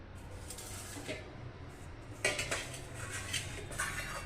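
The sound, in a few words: carrot being grated on a grater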